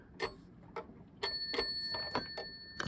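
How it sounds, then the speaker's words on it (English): Little bell on a solid, heavy tin plate toy with patterned moquette seats, ringing in several bright metallic dings spaced apart, close and clear with no talking. "You hear a little bell there. So it has a bell."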